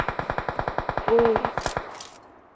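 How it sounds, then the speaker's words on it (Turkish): A burst of rapid automatic gunfire in PUBG Mobile, about fifteen evenly spaced shots over two seconds at moderate volume. It ends with a couple of faint sharper clicks. "Adam nasıl sıkıyor lan?"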